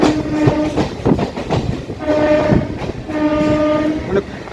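A Kolkata Chakrarail circular railway train runs along beside the Ganges with a steady, loud rumble and wheel clatter, and drawn-out horn tones sound three times over the noise.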